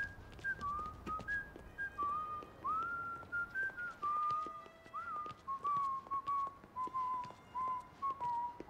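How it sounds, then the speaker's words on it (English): A character in The Godfather video game whistles a wandering, steady tune through the whole stretch, clear and fairly close, with soft game noises faintly underneath. "He's whistling his ass off."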